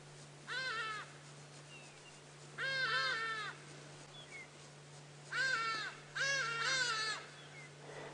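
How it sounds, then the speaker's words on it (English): Loud, harsh hadeda ibis calls ring out in several bursts overhead, each a series of nasal cries, separated by short pauses over a faint steady hum, on an African safari drive at sunset. "We might be able to hear some birds flying over us. They've just stopped. They are called hardy-daws."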